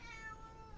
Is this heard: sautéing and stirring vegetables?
no